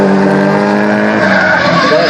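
Drift cars skid hard around a course at Archerfield, one long loud tire squeal with engine roar running unbroken, close and sustained.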